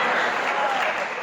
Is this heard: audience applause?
yes